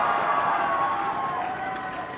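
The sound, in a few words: audience cheering for Team Solo Mid at esports match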